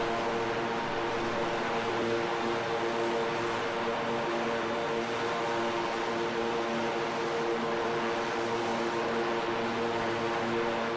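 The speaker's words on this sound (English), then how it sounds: "So Dora, that's the very aircraft. It's an absolute stunner" Steady, continuous drone of a propeller aircraft flying a display, heard at moderate distance with an even engine tone and no voices.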